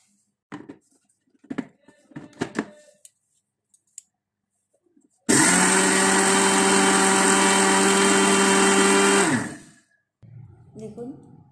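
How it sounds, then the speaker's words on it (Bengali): A mixer grinder powders roasted oats in a loud, steady high-pitched whir lasting about four seconds before spinning down, with clicks and handling noises before it and talk after. "ওটসটা আমি গুঁড়ো করে নেব মিক্সিতে।"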